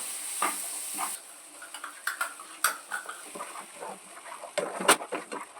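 Onion, tomato, cumin, coriander and chilli powder frying in a pan for an egg curry with ground peas, giving a soft continuous sizzle under scattered scraping stir strokes and light utensil clicks, close and fairly quiet.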